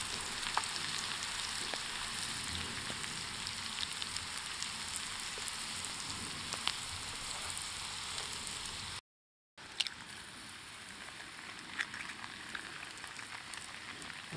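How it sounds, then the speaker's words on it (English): Stir fry sizzling in a pot hung over a campfire, a steady dense crackle and hiss throughout with occasional sharper pops, briefly cut out for a moment near the end before resuming at a slightly lower level. "Definitely got a good fry going on."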